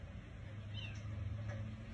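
A stray cat meows at the door of a house from a porch, trying to get in; two faint, brief meows rise over a low steady hum, with no talking.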